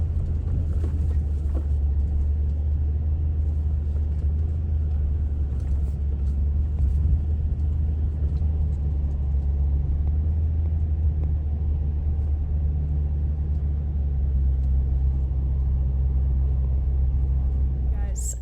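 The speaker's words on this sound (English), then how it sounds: "it's going to be a sporty trek up the driveway with the trailer" A vehicle towing a trailer up a farm driveway, a steady loud low engine rumble that holds throughout with no break.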